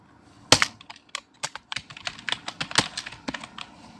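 Fingers typing on a computer keyboard: irregular bursts of crisp plastic key clicks close by, opening with one hard strike and then a busy patter of keystrokes, with no voices.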